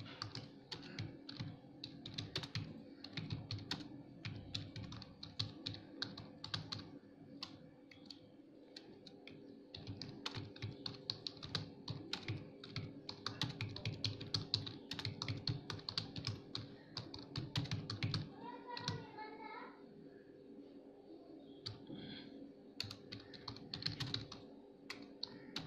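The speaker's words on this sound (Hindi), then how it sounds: "मैं यहाँ पे मान लो टाइप कर देता हूँ" Typing on a computer keyboard gives a steady stream of quick, faint, close key clicks with brief pauses throughout, heard alone at low volume.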